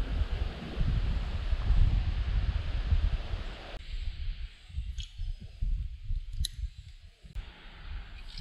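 Wind blowing outdoors at a fishing spot, a steady broad rush that is loud for the first few seconds and then drops to a softer, gusting flow, with small clicks from tackle or the boat.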